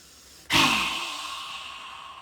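A single deep inhale during a guided qi gong breathing exercise, starting abruptly and then drawn out as a long, close breath that slowly fades.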